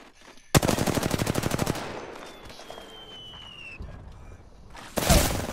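Rapid automatic gunfire from Apex Legends bursts loudly for about a second, followed by quieter in-game effects and a rising whine, then another sharp burst of shots near the end.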